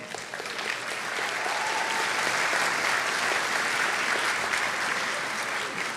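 Applause from a large crowd at a college commencement ceremony for humanities, business and social sciences graduates, a dense steady roar of clapping that swells in and holds throughout.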